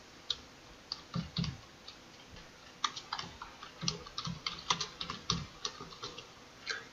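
Keystrokes on a computer keyboard as a search keyword is typed, quiet, close and irregular, in short bursts of clicks with small pauses and no talking.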